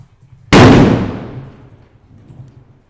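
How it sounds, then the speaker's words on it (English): A single loud firework bursts outdoors with a sharp boom that fades slowly over about a second into faint rumbling. "Yeah, so excuse the loud fireworks."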